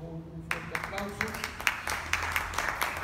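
An audience at a tribute event for Miguel León-Portilla breaks into applause after a brief voice, with sharp, scattered hand claps coming moderately loud and fairly close for a few seconds.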